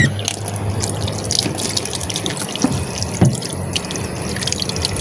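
Running tap water splashes steadily over a bibi coconut as it is washed at a sink, a continuous close hiss broken by a few soft knocks and drips.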